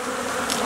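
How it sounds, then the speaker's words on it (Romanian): Honeybees buzzing out of their hives on a cleansing flight in late winter, a steady dense hum of many insects at moderate level, alone with no talk. "albinii au ieșit la zborul de curățire"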